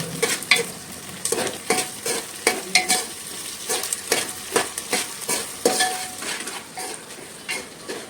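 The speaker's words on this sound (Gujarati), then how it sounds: "બટેટા પછી બટેટાને થોડા હલાવી લેવાના, બધું મિક્સ થઈ જાય." Potatoes frying in a pan for village-style khichdi, stirred with a utensil that scrapes and clinks against the metal in an irregular rhythm over a soft, continuous sizzle, close by with no talk.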